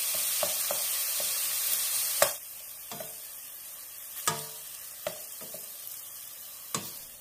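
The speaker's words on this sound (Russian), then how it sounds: "Деревянной ложкой или лопаткой разбиваем кусочки фарша как можно мельче." Minced meat sizzles steadily in a pan over high heat while a wooden spoon or spatula breaks it apart, sharp scraping knocks landing every second or so over the constant frying hiss, with no talk.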